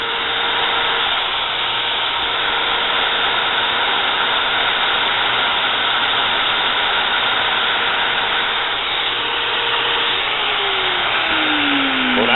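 A cheap angle grinder, gears freshly greased, runs steadily as a continuous loud motor whine with a broad hiss, holding even speed across the whole stretch before the pitch sweeps near the end.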